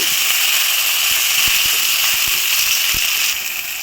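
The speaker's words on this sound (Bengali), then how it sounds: "এখন দিয়ে দেবো টমেটো কুচি হালকা করে ভেজে নেব" Chopped tomatoes hiss and sizzle steadily in a hot pan as they are lightly fried, a broad close frying noise with a few soft clicks, no one talking.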